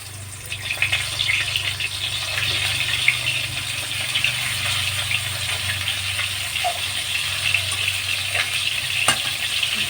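Food frying in hot oil: a continuous close, crackling sizzle with steady bubbling that stays even in loudness for the whole stretch, with occasional light clinks and no talking.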